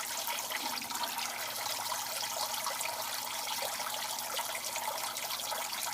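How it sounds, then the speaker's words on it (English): Water from a Zoo Med Turtle Clean 75 filter pours steadily into a turtle tank, a continuous close splashing trickle like a small waterfall, with no talk. "that's a waterfall right there."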